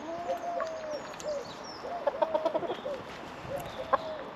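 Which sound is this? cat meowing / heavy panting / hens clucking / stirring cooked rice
hens clucking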